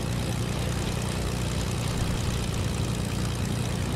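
Steady, droning propeller-plane engine in Fortnite, a constant low rumble with no breaks or changes in level, heard alone with no talking over it.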